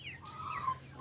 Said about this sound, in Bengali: দেখো গাইস কত বড় বড় মুরগি।